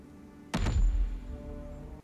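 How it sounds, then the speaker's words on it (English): A heavy object set down hard in a scene from The Lord of the Rings: The Fellowship of the Ring lands as a single deep, weighty thud after near silence, followed by a short low resonant decay. "That hard thud when you hear it come down of him putting it behind him and how heavy it was."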